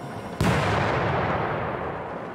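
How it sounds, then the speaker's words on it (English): A sudden heavy blast erupts in the horror game Suffer the Night, a loud broadband boom that keeps rumbling and slowly fades over the next two seconds. "It sounded like an explosion."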